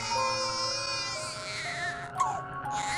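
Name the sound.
baby crying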